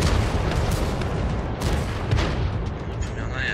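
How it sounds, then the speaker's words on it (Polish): Tank cannon fire traded in a World of Tanks battle, loud booming shots and blasts over a dense, noisy background of game sounds. "Wymiana ognia poszła"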